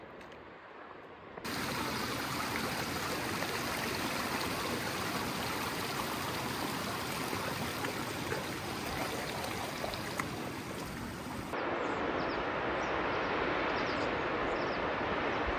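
Small side streams flow down off a mountain beside a campground, giving a steady, dense, close rushing babble that starts abruptly after a quiet moment and continues evenly throughout.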